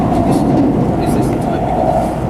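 Shinkansen bullet train pulling away from Tokyo, heard from inside the carriage as a steady loud rumble and roar of wheels and motors, continuous throughout.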